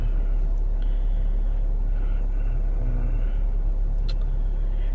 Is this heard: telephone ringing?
no